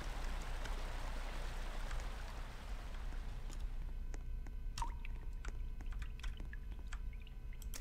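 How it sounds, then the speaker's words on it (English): Water drips from the Roblox game Changed map: scattered, crisp single drips land at irregular intervals over a steady, noisy ambient bed, becoming sparser and more distinct toward the end. "Water sounds."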